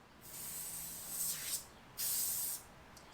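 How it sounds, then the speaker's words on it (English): Spray adhesive hisses from an aerosol can in short bursts, two main sprays close by with a brief pause between, in a quiet workspace during an epoxy table build for a camper remodel. "Spray adhesive."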